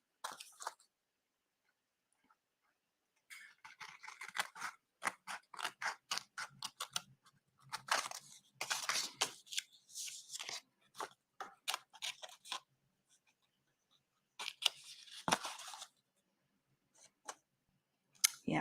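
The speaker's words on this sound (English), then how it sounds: "little scissors and I'm going to cut right" Small craft scissors snip through folded paper along a crease for a paper heart doily collage, giving irregular bursts of crisp close cuts and rustles separated by short pauses, with no talking.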